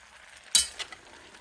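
Onions and ham being stirred together in a pot for Southern black-eyed peas with collard greens: one quiet scrape of a utensil against the pot, followed by a couple of softer stirs over a faint background hiss.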